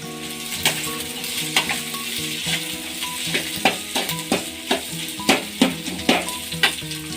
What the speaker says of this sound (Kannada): ಈಗ ನಾನು ಎಲೆಕೋಸು ಹಾಕೋತಾ ಇದ್ದೀನಿ.